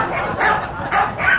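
Dogs barking outdoors on a windy day, three short loud bursts spaced about half a second apart, close by with no talk.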